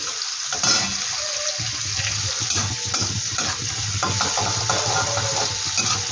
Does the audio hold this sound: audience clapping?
no